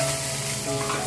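Ginger and green chili frying in a pan, a steady close sizzle and crackle with soft stirring, no voices.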